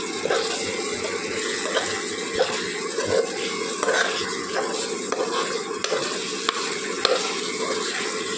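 Fried potatoes and boiled eggs being sautéed in spiced masala with a splash of water in a pan for egg biryani, a close, bubbling sizzle with irregular scraping stirs and occasional clinks.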